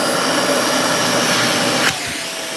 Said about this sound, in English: Or is it really just strong little vacuum, right? Turn this thing on